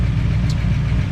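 A 1988 Chevrolet IROC-Z Camaro with a big oil leak idles in a steady, low, rumbling drone, close and constant with no talking.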